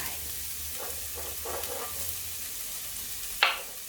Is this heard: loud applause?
no